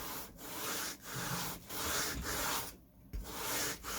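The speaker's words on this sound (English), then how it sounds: "Let's finish it off with the rough side of the sanding block." A sanding block's rough side rubs back and forth over a thin 3/16-inch wooden aerofoil for an RC autogyro. It makes steady, close, scratchy strokes in a regular rhythm, with brief pauses between passes and no voices.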